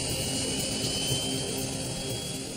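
Airplane at Detroit Metropolitan Airport, a steady broadband engine roar that holds at a constant loud level for a few seconds with no voices over it.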